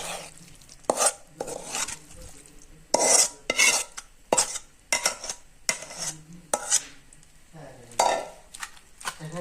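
Fried eggplant being mashed and squished by hand with dried chili, coriander leaves and onion, a run of soft wet squelching and pressing bursts, close and fairly loud, alone without talk.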